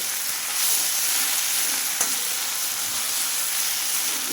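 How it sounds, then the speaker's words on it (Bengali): Drumstick leaves and sesame seeds sizzle steadily in a hot frying pan, a bright, continuous hiss with a brief clink of stirring partway through. "এবার পাতা দিয়ে কিন্তু আমি সব উপকরণগুলো দিয়ে ভেজে নিলাম"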